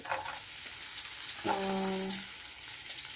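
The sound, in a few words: ginger added to a pan, frying and sizzling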